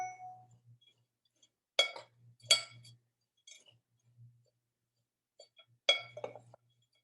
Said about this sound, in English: Now we're going to stir those together.